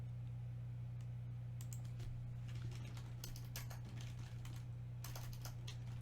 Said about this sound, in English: my typing is fucking atrocious